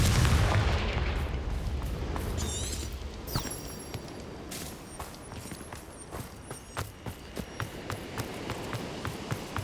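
Confringo blasting-spell explosions in the Hogwarts Legacy video game on PS5 hit hard with deep booming impact and rumbling debris, followed by a run of rhythmic thuds and crackling game effects.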